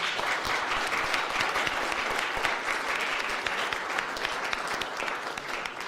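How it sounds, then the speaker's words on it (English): At a U.S. citizenship ceremony, the crowd gives a high school color guard a warm round of applause: a full, steady wash of clapping for about six seconds. "You all join me in a round of applause for our color guard."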